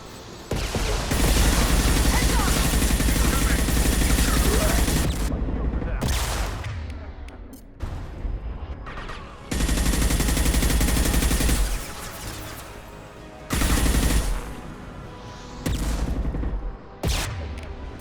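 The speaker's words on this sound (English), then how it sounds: "Firing concussive shot." Mass Effect 2 combat with long bursts of rapid automatic gunfire and heavy concussive shot impacts, loud and near, broken by brief pauses, shorter bursts and sharp blasts.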